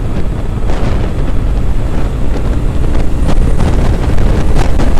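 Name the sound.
wind rushing while riding a Triumph Thruxton motorcycle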